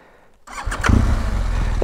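A motorcycle ridden in the wrong gear, quiet at first, then the engine bursts into a loud, rough, low rumble that holds to the end.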